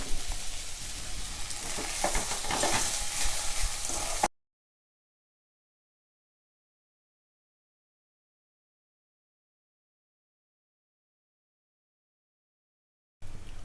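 Roasted lentils stirred into drumstick leaves in a pan give a close, crackling sizzle for about four seconds, then everything cuts to near silence before the frying briefly returns.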